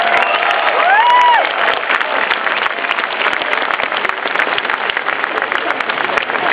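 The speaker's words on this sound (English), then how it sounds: "let's get a big round of applause for the team" Crowd at a Diablo 3 launch event applauding the team: dense, sustained clapping with cheers and a whistle at the start, loud and continuous throughout.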